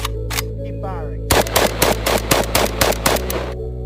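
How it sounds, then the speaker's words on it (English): AK47 or AR15 rifle after 100 days submerged in pond water, firing a rapid string of about nine loud, evenly spaced shots after a couple of earlier reports, close and sharp. "Keep firing."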